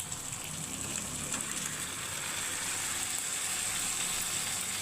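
Chicken pieces hitting a hot pan for pepper chicken, giving a loud, steady hiss of frying and sizzling that runs unbroken throughout with no talk.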